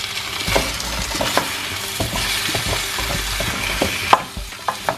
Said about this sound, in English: Give that another stir.